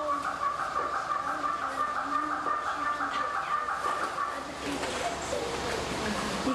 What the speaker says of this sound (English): We're competing with that bossy red bird back there.